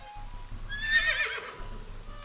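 A merry-go-round horse in the video game AI: The Somnium Files lets out a single drawn-out whinny that rises and trails off over a soft patter of rain.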